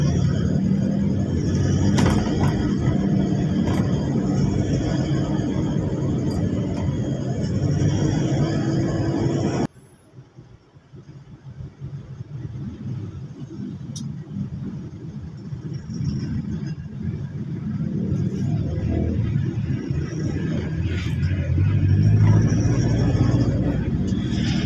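Slow morning traffic on a road in Pasig near Santolan, with tricycles: a steady low rumble of engines and passing vehicles that drops away briefly, then builds back to a continuous drone.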